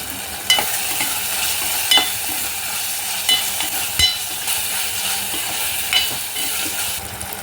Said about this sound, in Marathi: जरा बटाटा फिरवून घेऊया.